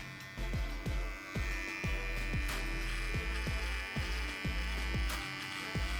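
A Beard Hedger Plus electric trimmer buzzes with a steady hum, pulsing in a regular rhythm of strokes as it cuts through beard hair, close and fairly loud with no speech.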